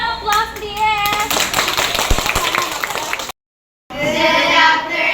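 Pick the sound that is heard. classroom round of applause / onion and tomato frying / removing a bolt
classroom round of applause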